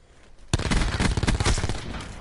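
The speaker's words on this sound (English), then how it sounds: "Oh, we've got a sniper." A rapid burst of sniper and rifle fire in a competitive online shooter match erupts suddenly and stays loud and dense, with overlapping shots and reports.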